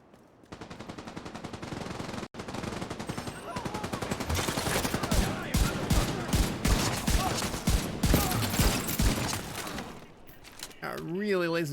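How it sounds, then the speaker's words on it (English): Sustained automatic weapon fire from The Division 2 hammers in a dense, loud stream for several seconds, close and continuous, with a short pause near the start. "Really lazy with my shooting right there."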